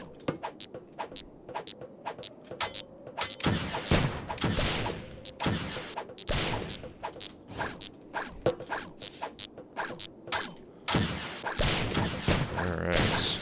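Rapid bursts of missile barrage fire from a weapon in the video game Starbound, many sharp cracking shots in irregular volleys over a busy game backdrop, with occasional speech.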